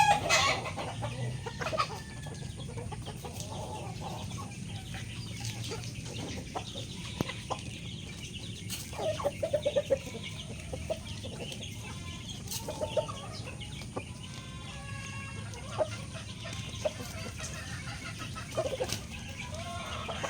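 Repeated soft clucking from Boston cross chickens, with occasional short calls over a steady low background hum.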